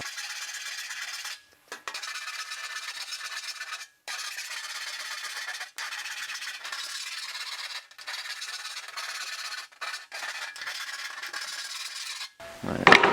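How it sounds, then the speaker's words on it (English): Hand file rasping across the edge of a metal patch panel during car body restoration, steady continuous strokes broken by a few brief pauses, close and fairly loud, with a sharp clatter at the end. "let me get a file and we'll file that out a little bit"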